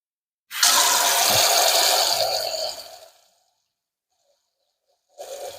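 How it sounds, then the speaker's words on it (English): Tap water runs into a basin at a sink for about two and a half seconds, a bright splashing gush that tapers off into silence before a short burst of running water starts again. "I'm going to fill up the basin"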